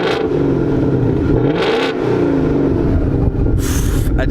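A 2018 Ford Mustang GT V8 revs hard from the cabin, a loud, dense engine roar that rises and falls through several pulls over a few seconds.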